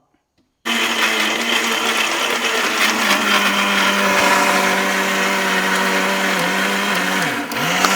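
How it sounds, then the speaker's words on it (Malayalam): A mixer blender runs continuously, whirring loud and steady as it blends juice with fresh cream in a home kitchen, the motor pitch holding level before dipping slightly near the end; no one speaks. "നമ്മളിവിടെ മിക്സിയിലിട്ട് ജ്യൂസ് അടിക്കുകയാണ്."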